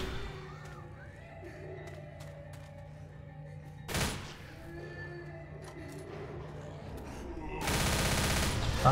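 Gunfire in the Left 4 Dead video game, during a Blood Woods campaign session. A single sharp shot rings out midway, followed near the end by a rapid burst of automatic fire over faint game ambience.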